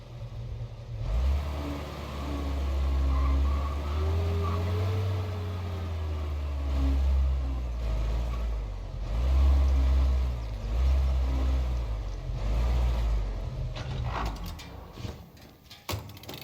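A car engine in the video game Mafia: Definitive Edition, set in a 1930s city, hums at a steady low drone with rising and falling revs and mechanical whirring, fairly close, with clicking and shifting noises near the end.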